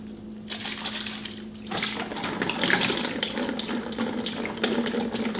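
Water pours steadily out of a water bottle as it is emptied, a continuous gurgling splash. It starts quietly, then swells louder after a couple of seconds and keeps running.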